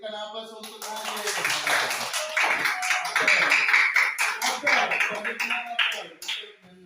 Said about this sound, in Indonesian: berikan aplaus untuk Hajir